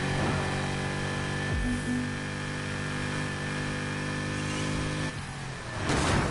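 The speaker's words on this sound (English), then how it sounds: "I just wish this car in game would sound a little more menacing, like the ZR1 does." A car engine in the racing game Need for Speed Heat, droning steadily with a rough, buzzy tone, shifting pitch twice as it revs and eases off, with no talk over it.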